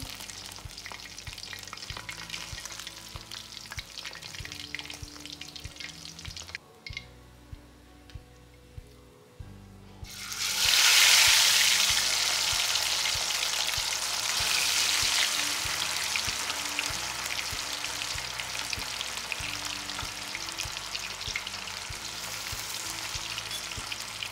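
Fish fries in oil in a home kitchen, a steady crackling sizzle under a low, rhythmic background hum, briefly dropping away before returning louder and brighter with dense spattering.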